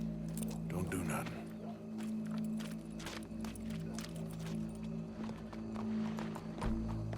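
Horse hooves clip-clopping at a steady walk behind a crowd gathered for a show, with a low steady hum running underneath throughout.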